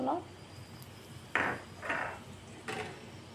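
A utensil scrapes and clatters against a pan of frying peanuts in three short strokes, with quiet sizzling between them.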